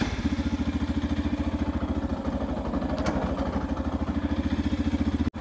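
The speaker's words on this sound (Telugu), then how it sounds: "ఒకసారి అయితే ఇంజన్ స్టార్ట్ చేస్తాను." A motorcycle engine idles steadily with a fast, even low thumping pulse and mechanical clatter, close and loud throughout, with a brief dropout near the end.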